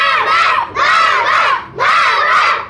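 A crowd at a food-eating competition in a restaurant yells loudly in three long surging waves of shouting and cheering for a contestant, with short dips between the bursts.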